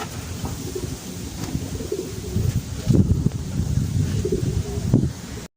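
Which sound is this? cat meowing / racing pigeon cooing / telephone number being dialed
racing pigeon cooing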